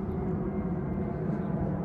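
An airplane drones overhead as a low, continuous rumble, steady and moderately loud with no other sounds.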